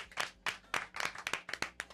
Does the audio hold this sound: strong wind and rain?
no